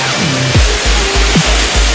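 A waterfall more than 20 metres high at Pemotongan village, Ketambe district, Aceh Tenggara, gives a steady broadband rush of falling water, with low rhythmic thumps pulsing through it.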